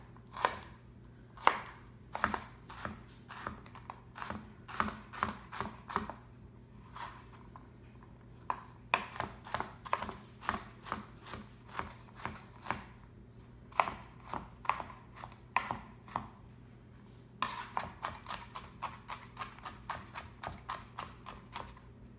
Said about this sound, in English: we have to mince these up pretty finely for the vinaigrette